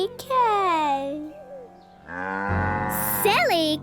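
An animated cow in a children's TV show gives a long, low moo, with a voice heard speaking before it and another rising call near the end.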